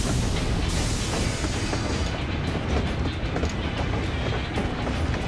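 A train rumbles in a cutscene from the video game Final Fantasy XIV Dawntrail, a loud, dense, continuous roar of rolling wheels and rattling carriages with faint rhythmic clatter, without any voices.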